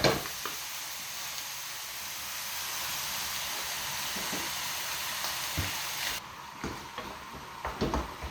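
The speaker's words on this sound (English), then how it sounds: "So we're browning off the mince here." Lean 5% fat beef mince browns in a hot pan with a steady close sizzle and hiss, then quieter crackling broken by scattered clicks and scrapes of stirring.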